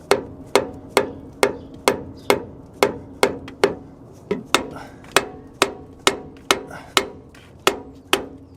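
Heavy hammer blows pound the front differential cross member of an H3 Hummer, about eighteen sharp, evenly spaced strikes in steady rhythm, close and loud with a brief ringing decay after each hit.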